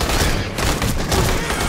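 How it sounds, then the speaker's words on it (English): Automated light turrets in the video game Aliens: Colonial Marines fire as a dense, continuous volley of gunfire, loud and close, with no gaps. "They're automated light turrets."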